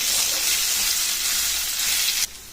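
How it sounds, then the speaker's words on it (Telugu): Sour ripe mango pieces sizzle steadily in hot oil, a dense, loud frying hiss that cuts off abruptly near the end, leaving a quieter background. "కొద్దిసేపు ఇది ఆయిల్లో మనం మగ్గించుకోవాలన్నమాట"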